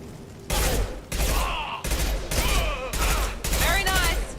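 Gunfire in the science-fiction shooter Mass Effect 2, with loud sustained volleys of rapid shots in several bursts separated by brief gaps and layered with whining energy effects.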